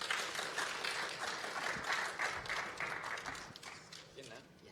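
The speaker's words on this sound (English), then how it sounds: "Please, warm round of applause." Audience applause at an education and employment skills event, a sustained wash of clapping from a crowd that carries on for several seconds, fading slightly at the end, with some voices mixed in.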